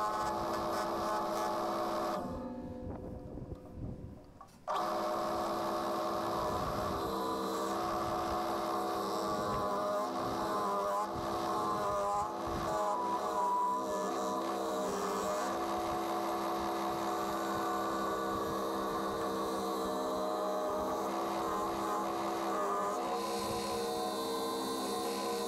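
A wood lathe spins an apple wood bowl at 1400 RPM while a half-inch bowl gouge cuts it outdoors. A steady motor hum runs throughout with a scraping cutting texture, briefly thinning near the start, and no voices.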